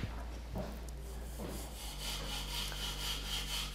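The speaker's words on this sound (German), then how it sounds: "so geht diese Japan-Säge hier durchs Holz" A Japanese pull saw cuts through wood with rhythmic rasping strokes, close and fairly loud over a steady low hum.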